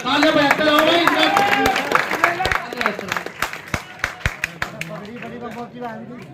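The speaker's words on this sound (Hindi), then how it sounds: "तालियां बजाते रहो भाई।" A crowd claps at a village gathering welcoming a religious leader, with a burst of scattered, uneven hand claps that thin out over several seconds, heard under someone speaking and background chatter.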